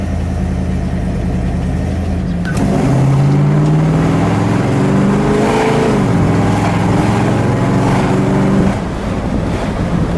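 A red 1964 Ford Galaxie 500XL two-door hardtop with a 390 engine pulls away through a neighborhood, its engine note rising through the revs then settling into a loud, steady cruise mixed with wind rush.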